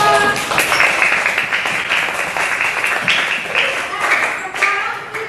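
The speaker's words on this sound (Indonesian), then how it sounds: "Ya, tepuk tangan semua" Classroom of young students clapping together at a teacher's prompt during an Indonesian lesson, a steady, close burst of dense hand claps lasting several seconds without pause.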